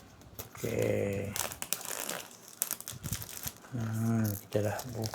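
Plastic packaging for a DJI action camera is slit from the edge and torn open, giving loud close crinkling and tearing bursts between stretches of talk.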